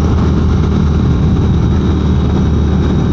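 A 2022 Ducati Monster+ or 2022 Triumph Speed Twin motorcycle engine running at steady speed, a loud, continuous low roar mixed with wind rush, with no change in tone and no voices.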